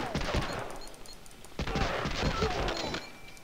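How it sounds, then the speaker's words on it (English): Gunfire from the World War II shooter Medal of Honor: Allied Assault, a stretch of rapid in-game shots and bursts with sharp transients, dense and loud, with a second flurry of firing after a brief lull. "Get shot at. I will shoot back."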